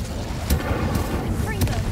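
Incendio fire spell cast in the video game Hogwarts Legacy, a few short whooshing bursts and crackles over a steady game soundscape, with a voice speaking over it.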